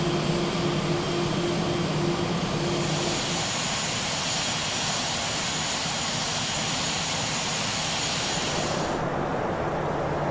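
Jet airliner engines in the Prepar3D flight simulator, a loud, steady broadband roar with a high whine and a low tonal hum that fades partway, continuous throughout without talk.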